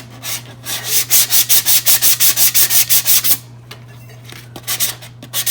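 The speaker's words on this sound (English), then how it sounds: "It takes a little bit of pressure to sand it." A tumbler coated with Crystalac sanded by hand, about fifteen quick rhythmic rasping strokes in a steady run, then a pause and a few more scattered strokes, close and loud over a low steady hum.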